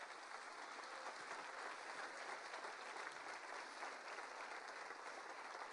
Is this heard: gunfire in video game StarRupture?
no